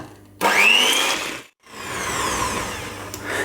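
Whole liquid cream is whipped with an electric mixer until it thickens, a loud whirring drone that cuts out briefly and then starts again.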